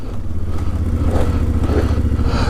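A motorcycle on a slick wet road in rain, rear brake applied hard to skid: a steady, close engine rumble with tire hiss and clatter throughout, no voices.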